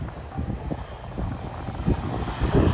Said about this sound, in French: Ah bah vous le voyez, il est en train de décoller.